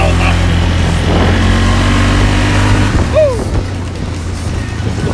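An ATV engine passes a snowmobile. A loud, steady motor drone holds throughout, with a brief rising whine partway through.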